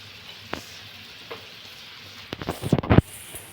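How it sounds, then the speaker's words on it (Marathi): Breadfruit slices frying in a pan give a faint low sizzle with a few soft clicks, then a louder burst of crackling and scraping near the end as the slices are moved or turned. "छान त्याची भाजून घ्या."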